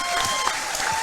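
A brief, dense burst of applause from a boxing-event crowd cheering young fighters after a bout, steady clapping lasting about a second with a tonal hum beneath.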